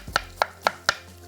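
Four sharp knife chops on a cutting board, evenly spaced, as ginger is cut into small pieces in a home kitchen; close and crisp with no talking.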